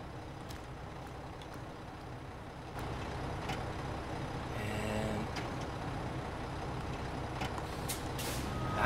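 A truck in the video game SnowRunner idles with a low, steady engine rumble that grows slightly louder partway through, punctuated by sharp hissing air-brake releases and faint clicks.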